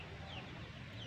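A Pelung chicken clucks softly at close range, brief low calls over a dull background murmur.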